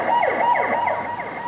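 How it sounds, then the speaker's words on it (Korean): A loud Korean fire service ambulance siren wails close by at night in rapid, repeating sweeps, over the hum of the vehicle engine. "구급차가 사이렌을 울리며 출발하는데요."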